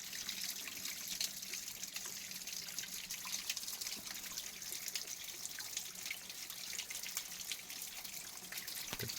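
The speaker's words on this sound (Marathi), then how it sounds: "तर पवित्र असं पाणी पडतंय." Holy water falling and trickling at a temple spring, a steady close splashing flow that continues unbroken throughout with no voices.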